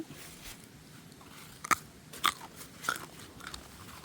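Ripe melon freshly picked from a garden is bitten and chewed, giving a few brief crisp crunches at irregular intervals over a quiet background, close and moderately loud.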